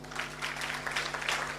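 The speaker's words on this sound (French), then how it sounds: "applaudissez pour lui" Audience applause at an evening event in honour of a man just introduced from the stage, a dense, steady patter of many hands that holds level throughout over a low electrical hum.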